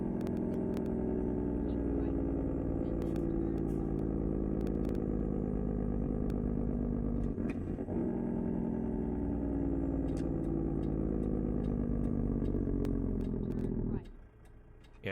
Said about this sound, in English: everyone's engine sound mods are a little off now that this update came out